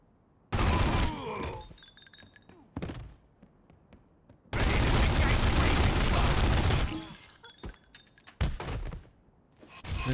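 Gunfire in The Godfather video game, two long bursts of rapid automatic shooting separated by scattered single shots and thuds, loud and close, with quiet gaps between.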